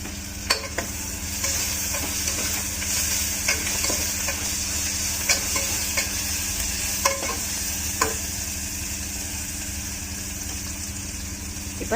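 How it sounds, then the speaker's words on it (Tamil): Onions sautéing with coriander and mint leaves for a mushroom biryani, a steady close sizzle with repeated spatula scrapes and taps against the pan at irregular intervals, no talking. "பச்சை வாசம் போகிற அளவுக்கு வதக்கி விட்டுக்கலாம்."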